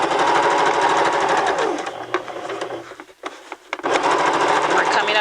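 A sewing machine stitches over fabric darts in a rapid, close mechanical chatter that pauses briefly midway and then resumes, with a voice speaking over it.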